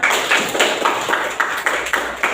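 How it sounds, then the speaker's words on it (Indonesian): A primary school class claps together in a quick, even rhythm, about eight sharp collective claps in a row at moderate volume in a classroom, with no talking. "kasih tepuk tangan untuk kelompok 4"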